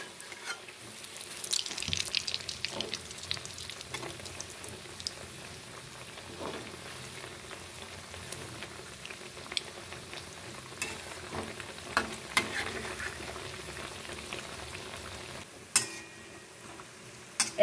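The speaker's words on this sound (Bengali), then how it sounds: "একদম মিডিয়াম করে ভাজতে হবে, না হলে ভেতরটা কাঁচা থেকে যাবে" Bengali pitha cakes fry in oil over medium heat, giving a steady, low sizzle with occasional soft ticks and clinks throughout.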